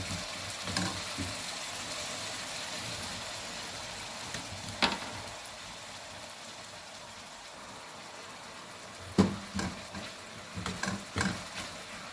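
Finely chopped onions sizzle softly in a pan over medium heat with a low steady hiss, with a few scraping stirs and clinks of a utensil near the end.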